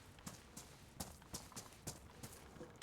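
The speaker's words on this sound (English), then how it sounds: "I freaking thought I heard footsteps" Footsteps in DayZ, a steady run of soft crunching steps about three per second, fairly close but quiet, heard alone without talk.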